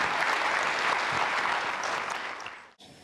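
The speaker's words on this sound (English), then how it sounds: "Big round of applause for Dr. Erach Bharucha." An audience at an international conference applauds a speaker, a dense burst of clapping that stays full, then thins and cuts off abruptly near the end.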